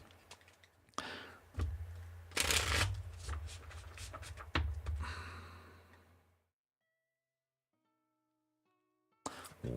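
Wild Unknown tarot cards are shuffled by hand in close, crisp riffles and slaps for several seconds, followed by near silence with faint tones and then a brief card handling sound at the end.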